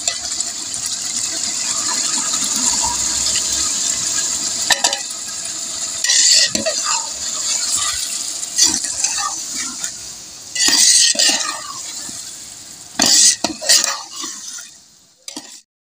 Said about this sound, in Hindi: और इनके साथ भी अभी और फ्राई होंगे।